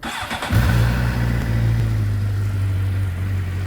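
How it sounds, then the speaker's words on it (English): A Suzuki GSX-R 750 motorcycle cranks briefly and catches, then settles into a steady, loud idle that holds as the engine warms up, close by with no talking. "you can hear that natural warm up of the engine as it starts to build up"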